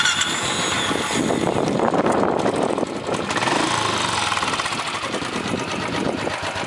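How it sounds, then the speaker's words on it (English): A Royal Enfield motorcycle engine cranks and catches, then settles into a loud, rapid, steady idle with a rattling chug. "Let me just switch on the engine."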